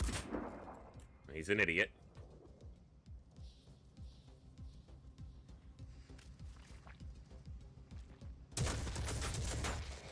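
Gunner firing in the turn-based strategy game Phoenix Point, a loud burst of shots near the start followed by a quieter stretch of scattered game noise, then a dense loud blast of fire at the end; a voice talks briefly.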